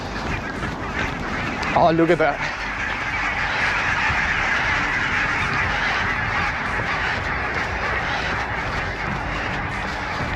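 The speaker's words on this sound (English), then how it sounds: "The geese are coming back." Geese honk in a short burst of calls partway through, faint and distant over steady outdoor wind noise on a morning run, with a brief spoken comment nearby.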